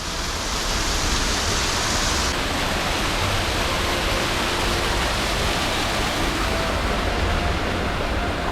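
A waterfall at Khandala Ghat in Maharashtra roars as a broad, constant rushing wash, loud and unbroken throughout with no voices over it.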